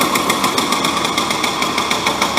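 A go-kart engine fires up and runs on a dyno, a loud, close, rapid pulsing chatter that stays even throughout.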